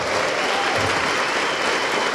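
Audience applause at a talk, a dense, loud and steady roar of many hands clapping throughout, with no pause or voices over it.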